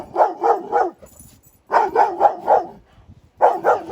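Coda, a guard dog at a mountain meadow campsite, barks hard at a fisherman in quick loud runs of three or four barks, with short pauses between the bursts.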